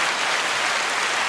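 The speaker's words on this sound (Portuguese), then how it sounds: "Felipe, cadê a nossa salva de palmas aí?" A studio audience on a talk show applauds a guest with dense, steady clapping that fills the short moment without any voices.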